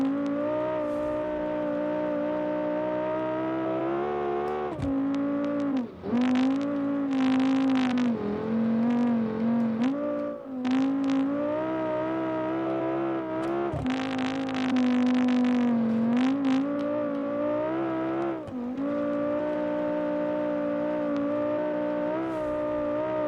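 An SUV engine revs hard in a cross-country racing video game, a loud sustained whine that climbs and falls with gear shifts and short dips, steady throughout with no voices.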